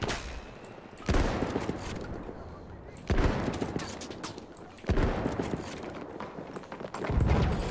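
Bursts of gunfire from a first-person shooter video game, four loud automatic volleys spaced about two seconds apart, each sharp crack trailing into rattling fire, with a faint voice in between.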